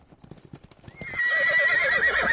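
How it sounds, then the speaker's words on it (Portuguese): Nearby horse hooves clopping and trampling loudly, then a strong whinny rising over them, with earlier scattered hoof strikes leading in. "ruído de seu cavalo próximo a você, como se estivesse pisoteando algo"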